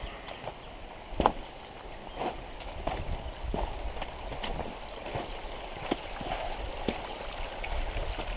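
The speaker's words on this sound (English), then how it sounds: "It's really neat to see this much water still coming out." Spring water pours out over rocks beneath trees along a forest hike, a steady broadband rush with scattered splashy knocks and gurgles, fairly close and continuous with no one speaking.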